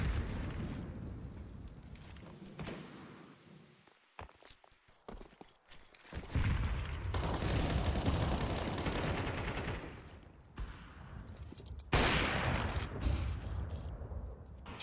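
Automatic rifle fire from an AK in a competitive first-person shooter match, loud bursts and rapid cracks in uneven clusters with quieter gaps and footstep-like movement between them, no talk.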